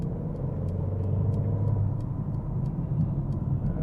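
Mercedes-AMG GLB35 driving in Sport Plus mode, a steady low engine rumble from inside the cabin with constant road drone, fairly quiet and even, no talking.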